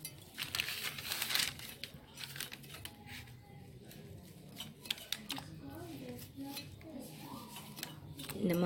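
Jackfruit being chopped into small pieces with a knife, a run of crisp cutting, crinkling and scraping sounds close by, with brief speech near the end.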